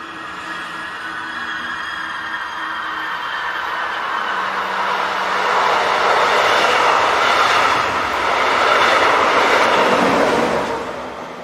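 A German Class 143 electric locomotive hauling a local passenger train between Leipzig and Dresden rolls past, a broad rushing roar with wheel and rail noise swelling toward the middle and easing off at the end.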